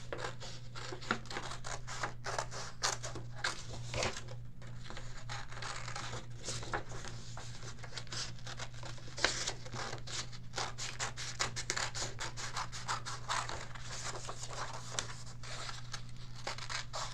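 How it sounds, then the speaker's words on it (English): Child-friendly scissors cutting paper close by, with a quiet, irregular run of snips, scratches and crinkles over a low steady hum. "I'm going to get my child-friendly scissors and we're going to cut it out together."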